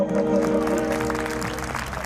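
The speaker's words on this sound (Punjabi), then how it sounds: "ਇੱਕ ਵਾਰੀ ਤਾੜੀ ਲਾਓ ਬਾਬਿਓ" An audience at a village fair in Punjab claps in a burst of applause over sustained devotional singing and music, the clapping fading slightly toward the end.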